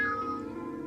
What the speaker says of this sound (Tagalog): Teka lang, ang laking pusa naman ito ah.